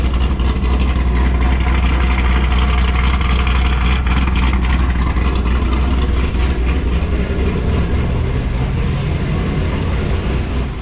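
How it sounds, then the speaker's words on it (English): A car engine idles after an oil change and air filter service, a steady low rumble that runs loud and close without any change in pitch throughout. "Now that we let the car idle for a little bit, let it get a little bit warm"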